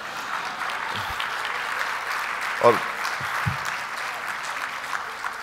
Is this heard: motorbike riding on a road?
no